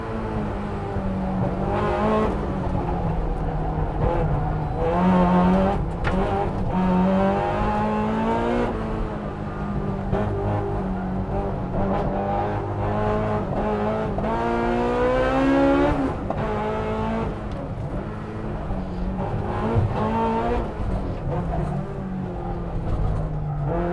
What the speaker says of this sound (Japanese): 挙動が収まらないマシン、慎重なコントロールでマックスがアタックをかける